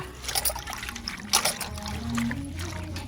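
Fresh gongura (sorrel) leaves being washed by hand in water, a soft steady trickling and dribbling with light splashes, close and moderately quiet, no talking.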